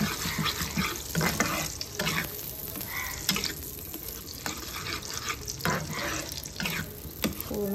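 Eggs are mixed into a ravas fish dish in a pan, with irregular scraping and stirring clatter over a low sizzle, moderately loud and close, with no voices.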